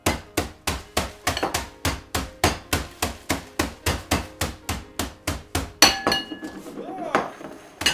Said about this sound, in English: So it's just the beginning part is whacking away.